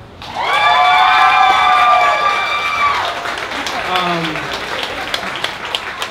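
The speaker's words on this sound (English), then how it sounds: "I want you to clap your hands if you're sitting next to somebody beautiful." A crowd at a live poetry slam claps and cheers, a loud burst of whoops and shouts over dense applause that gradually tapers to scattered claps.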